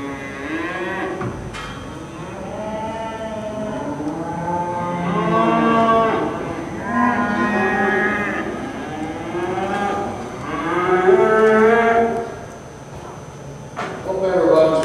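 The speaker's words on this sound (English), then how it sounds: "This is a good looking set of heifers here that are out here." Dexter cattle heifers at a youth cattle show low repeatedly in a series of drawn-out moos, while a person talks nearby over a busy show-ring background.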